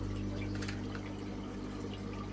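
A small pump in an aquarium filter with foam and ceramic media pushes out water in a continuous low hum, with faint trickling and splashing over it.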